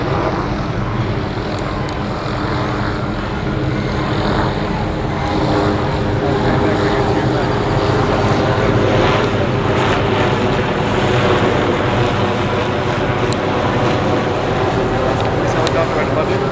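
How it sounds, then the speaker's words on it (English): A helicopter flies overhead at a protest in Houston, Texas, giving a loud, steady rotor drone that persists throughout while voices talk beneath it. "This helicopter right above you?"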